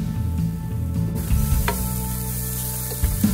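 Sticky rice stir-fries in a wok with diced mushrooms, dried shrimp and shredded dried scallop, a continuous sizzle under the scrape and clatter of a spatula, close and moderately loud.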